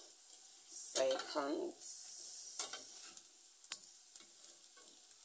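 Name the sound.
prawn crackers frying in a little oil, being turned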